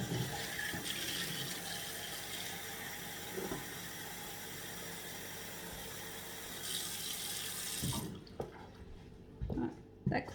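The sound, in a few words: water being poured while changing it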